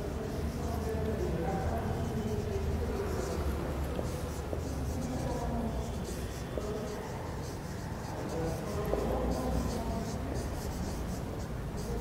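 Steady writing on a classroom board during an English grammar lesson, with continuous scratchy strokes running under a teacher's ongoing speech.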